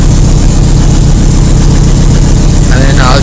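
A 1980 Yamaha XS1100 motorcycle engine idles at about 1000 rpm, a loud, close, steady low throb with even pulsing; a voice speaks briefly near the end.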